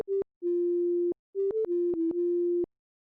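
A high-pitched synthesizer tone patched in SynthEdit sounds as a few plain, steady beeps of varying length, with slight pitch steps and clicky starts and stops. It is clean and moderately quiet, with short gaps of silence between notes.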